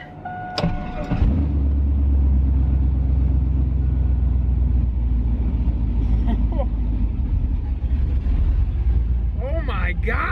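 A car fitted with long tube headers and no other exhaust changes starts up, then settles into a loud, steady, deep idle rumble that holds close and constant for several seconds.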